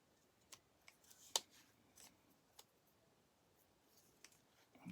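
Scissors cutting a paper tag for a miniature Alice in Wonderland journal, a few faint, close snips and crisp clicks spaced irregularly over quiet.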